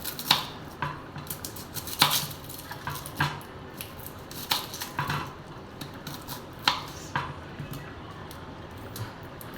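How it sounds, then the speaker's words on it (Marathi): Knife chopping onion on a board, a series of irregular sharp taps close by, some in quick pairs with short pauses between, against a quiet kitchen background. "कांदा कापून घेऊया."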